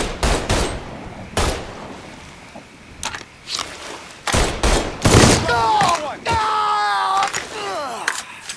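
Gunfire from the open-world crime shooter Mafia 3: several loud sharp shots and bursts in a short firefight, with whistling, chirping tonal sounds near the end, no talking.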